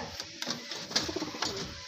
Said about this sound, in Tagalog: Tara, kunin natin yung kalapati natin